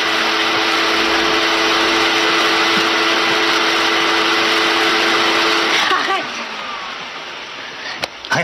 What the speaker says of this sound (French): Le bruit de l'aspirateur à 2h30 du matin